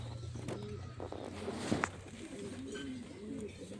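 Pigeons, including young birds, coo in soft repeated rolling calls close by under a low steady background hum.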